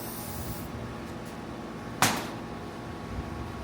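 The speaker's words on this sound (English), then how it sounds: "WD-40 and just spray it down." WD-40 sprayed onto the bedknife of a Foley 673 grinder setup: a single sharp hiss bursts out, fades over about a second, and sits over a steady low room hum.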